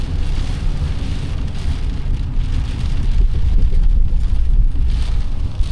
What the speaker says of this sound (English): It's just pouring into that parking lot